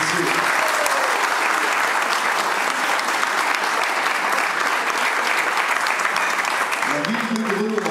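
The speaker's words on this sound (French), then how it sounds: "Ça mérite vraiment des applaudissements et vous pouvez vous applaudir" Dense, steady audience applause fills a hall at a ceremony launching the Olympic year, loud and continuous throughout, with a voice briefly audible near the end.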